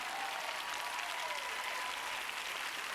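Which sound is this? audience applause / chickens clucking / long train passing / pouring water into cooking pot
audience applause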